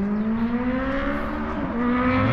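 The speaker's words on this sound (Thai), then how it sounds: "เสียงพี่ๆบิ๊กไบค์นะครับ" Big touring motorcycles roar past steadily on a long curving road near a reservoir campsite, a loud sustained drone with a slight pitch shift as they ride by, no voices.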